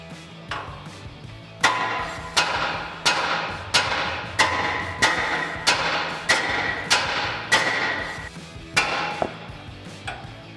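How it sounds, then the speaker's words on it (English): About a dozen sharp, evenly spaced hammer blows ring out on the steering knuckle of a Toyota Tacoma, knocking loose the ball joint during a coil-over install. Each strike is close, loud and metallic. "we're just gonna strike this side right here with a hammer to release this ball joint"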